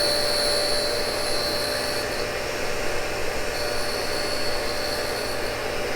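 Steady, high whining grind from a Cincinnati tool and cutter grinder working a Morse taper, a continuous even hiss with a bright tonal edge and no pauses.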